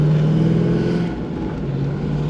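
An LS-swapped Wagoneer's V8 drones loudly under acceleration, its pitch dipping briefly at a firm gear shift before pulling steadily again.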